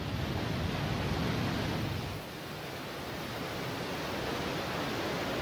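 Water gushes at Sanju Waterfall in Oze, Japan, a dense, continuous roar of falling water that eases slightly partway through but stays steady and full.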